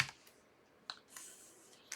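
A few light keystrokes tap on a computer keyboard as dimensions are entered in SketchUp, sparse and quiet clicks spread over two seconds with no talking.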